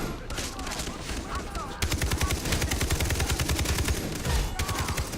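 Sniper rifle gunfire from the video game Far Cry 3, rapid dense volleys of loud shots over continuous battle noise, with bursts running steadily through the clip and a voice speaking faintly beneath.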